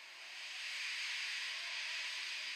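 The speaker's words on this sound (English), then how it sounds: "He just let off steam feebly." A steam locomotive in an animated train story lets off steam feebly, a steady soft hiss that swells slightly and then holds, faint and alone with no talk.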